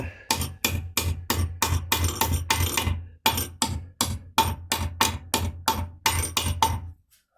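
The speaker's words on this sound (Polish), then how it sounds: "Tutaj są dwa gwoździe, więc je trochę sobie dobiję." Hammer blows driving two nails in, a steady run of sharp, close, loud strikes in two bursts separated by a brief pause, with no voices.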